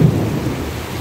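Low rumbling thunder rolls through steady heavy monsoon rain in the Konkan countryside, a deep broad roar with no talking.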